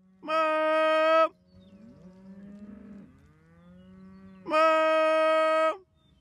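Cattle moving between grazing fields give two long, loud moos close by, with a quieter lowing stretch between them.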